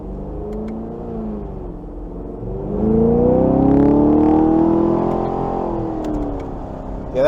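A 2023 Chevrolet Camaro LT1 RS Convertible with a V8 accelerates in manual mode, its engine and exhaust rising in a smooth, swelling rev, moderately loud, with no talk.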